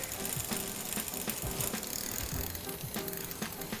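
A newly assembled bike-in-a-box bicycle runs on a stand while its gears shift up, giving a busy, close rattling and ticking from the drivetrain with a light chain rub throughout.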